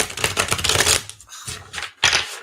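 A deck of slippery, glossy tarot cards is riffle-shuffled up close, giving rapid fluttering bursts of clicking card edges separated by short pauses, with no speech.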